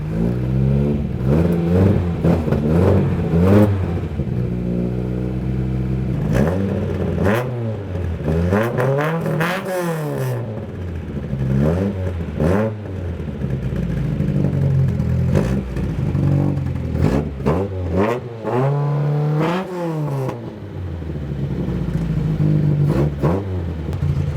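Cold car engine from a long-stalled project car idling and repeatedly revving, the rising and falling engine note loud and close, with no talk over it.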